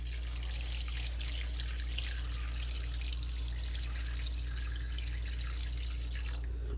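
Water pours steadily into a cooking pot, eight cups measured out for a Jamaican brown stew chicken, a continuous soft trickling and splashing close by with no talking and a low steady hum underneath.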